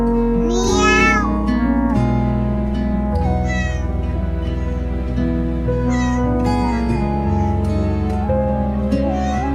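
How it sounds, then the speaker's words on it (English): Several cats meowing in a snowy winter setting, close and loud, with high repeated cries over a steady musical bed that runs throughout. "Meow! Meow! Meow! Meow! Meow!"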